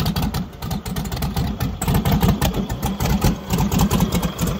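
A cold engine runs rough and loud up close with a fast, uneven mechanical pulsing and clatter. The pitch and level stay fairly steady throughout rather than climbing sharply.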